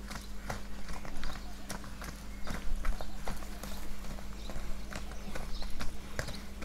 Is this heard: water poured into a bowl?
no